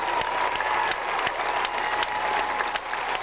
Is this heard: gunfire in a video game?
no